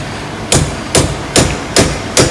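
Five sharp metallic hammer taps strike the piston of a Muller Werkzeug Gen 2 wheel bearing tool, evenly spaced about half a second apart, close and loud with short ringing decay.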